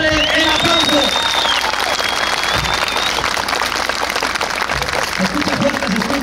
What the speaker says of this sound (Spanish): su jinete colibrí de Quiroga, Michoacán, regálenle el aplauso.